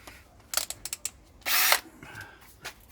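A pilot drill bores holes for fitting jail bars to a VW, heard as a string of short, sharp drilling bursts followed by one longer, steady whirring run and a few fainter taps, close by with no talk.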